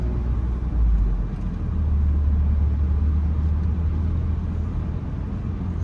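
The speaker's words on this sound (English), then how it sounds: "Alright, that car's parking up." A car rumbles through a slow parking maneuver on a residential street of brick homes with driveways, its low engine drone steady and fairly close, with no talking.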